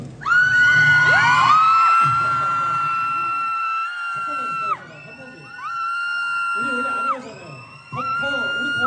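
A large crowd at the K-wave Festival, an outdoor Korean culture event with the group SF9, cheers and shouts in long, loud swells of high screaming that rise, hold, cut off and surge again.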